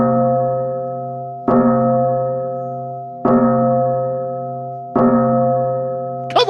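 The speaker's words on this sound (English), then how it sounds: "he's ringing the bell" A large bell rung at a 76ers–Knicks basketball game strikes three times at an even pace, each loud ringing tone sustaining and slowly fading before the next, with no talk.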